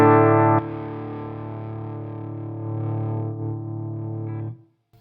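An electric guitar runs through a Fender Hammertone Distortion pedal, opening with a hard strummed chord, then holding a long, gritty sustained chord that swells slightly before cutting off to silence.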